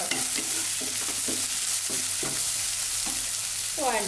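Chopped onions sauté in a pan over a medium flame, a steady frying hiss running throughout with repeated scraping stirs of a spoon; no talking.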